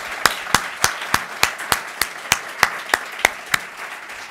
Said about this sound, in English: Let's give this an applause.